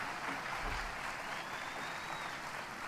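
A large keynote audience at Apple WWDC 2017 keeps clapping in a dense, even roar of applause that stays steady and fairly distant throughout, with no voices over it.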